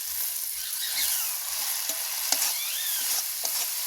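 Poppy seed paste fried with spices into a gravy for fish roe, stirred in the pan: a bright, steady sizzle with soft low thumps and a few scrapes of the spoon.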